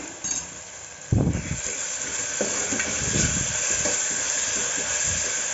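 Ginger garlic paste fries in a pan with a steady loud hiss and sizzle, broken by a few stirring scrapes, with no voices.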